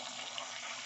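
Oil bubbles and sizzles in a fryer while heating for churros, a steady, dense crackling hiss that stays close and even, with no talking.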